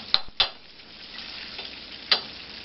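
Cube steak dredged in flour crisping in a frying pan, a low steady sizzle with a few sharp clicks of a utensil against the pan.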